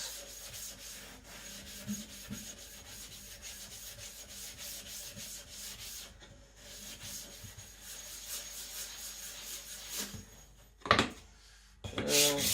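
A Japanese Sakon Ryuga gyuto knife is flattened on a Naniwa Professional sharpening stone, making quiet, repeated gritty rubbing strokes in a steady back-and-forth rhythm, with a few louder scrapes near the end.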